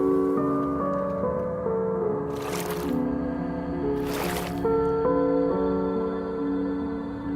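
Water splashes in an escape-room style video game: two short, bright bursts of splashing rise over steady, droning musical tones, moderately loud and with no one talking.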